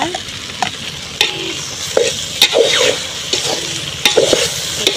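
A pan of prawn and okra curry being stirred, several sharp scraping clicks of the spoon against the pan over a continuous close sizzle, with no speech.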